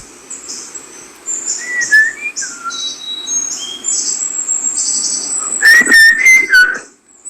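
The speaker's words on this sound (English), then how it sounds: "whistling really cuts through microphones like nothing else" A person whistles a song melody in bright, sliding phrases, fairly close, with short pauses and a quick trill of rapid notes near the end.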